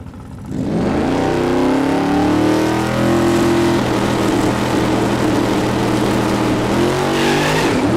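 An International Scout pickup, a street-driven truck with air conditioning and power steering, roars at a no-prep truck drag race at Newport Raceway. The engine rises sharply, then holds a loud, steady, revving pull for several seconds.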